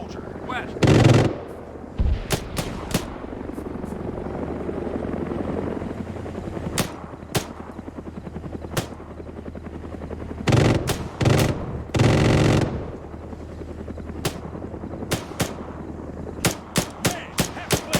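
Gunfire rings out in the Cold War Rearmed mod for ARMA III, with sharp isolated shots and short bursts scattered over a constant low helicopter-like engine drone, some heavier close blasts among them.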